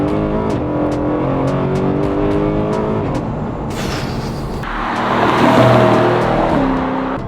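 A naturally aspirated 4.4-litre V8 in a BMW M3 revs and accelerates hard from inside the cabin, loud and close, with repeated rising climbs through the gears and brief shift breaks.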